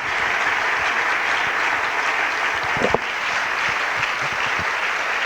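A conference audience claps steadily to welcome speakers onto the stage at a church gathering, producing a dense, uniform wash of applause with one brief louder knock near the middle.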